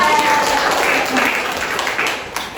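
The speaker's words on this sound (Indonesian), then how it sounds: "boleh beri aplaus" Classroom audience applauding after a student presentation, a dense steady patter of many hands clapping for a couple of seconds, fairly close and loud.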